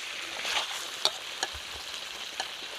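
Chicken cooking down with spices in released oil for chicken tehari, a soft steady sizzle broken by a few quick utensil scrapes and taps against the pot, with no talking.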